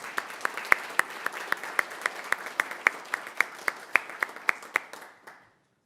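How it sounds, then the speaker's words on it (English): Council meeting audience giving a round of applause, a steady run of rhythmic claps from a modest group in a room, moderately loud, tapering off and ending abruptly near the close. "I think you deserve a round of applause along with everybody else"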